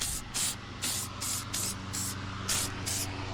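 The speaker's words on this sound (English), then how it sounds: "I'm gonna just spray it down." Gamma lube corrosion spray hisses onto a Mercury 9.9 Pro Kicker EFI outboard motor in about eight short, close, loud bursts with brief gaps between them.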